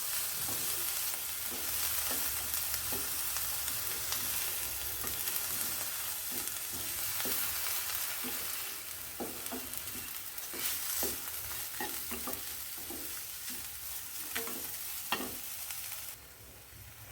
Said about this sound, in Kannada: ಇವಾಗ ಇದಕ್ಕೆ ನಾನು ನಿಂಬೆ ಹುಳಿನ ಹೆಣ್ತಾಯಿದ್ದೀನಿ ಇದ್ದೀನಿ ಮತ್ತು ಚೆನ್ನಾಗಿ ಮಿಕ್ಸ್ ಮಾಡ್ತಾ ಇದ್ದೀನಿ